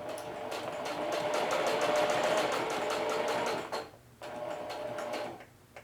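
A sewing machine stitching a pocket runs in a fast rhythmic whir for several seconds, stops briefly, then runs again for a shorter burst and halts, close and clear with no speech.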